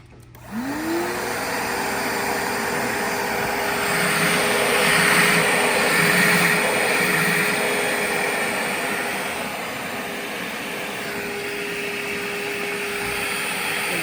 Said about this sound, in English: we're going to start it up again, and we're going to have vacuum on both these tanks